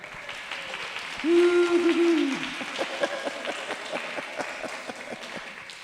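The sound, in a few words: audience applauding new church members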